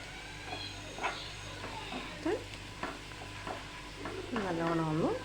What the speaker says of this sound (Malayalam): നല്ലോണം ഒന്ന് പച്ചമണം മാറാൻ വേണ്ടി അതുവരെ ഒന്ന് വഴറ്റുക.